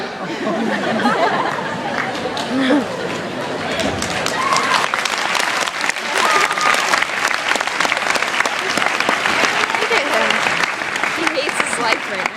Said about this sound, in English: You shouldn't applaud.